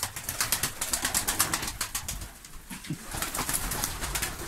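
Kanat Posta pigeons in a large flock cooing and rustling close by, a dense, steady chorus of throaty coos that keeps going throughout.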